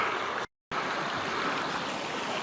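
Creek running in from the Marston road toward Lac Mégantic, a soft continuous trickle and wash of flowing water heard at low level, broken by one brief gap of total silence.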